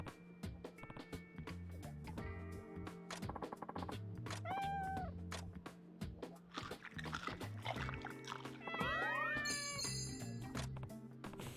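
A cat in the game Like a Dragon: Ishin meows a few times, clear and close, over steady game music and ambient background sounds.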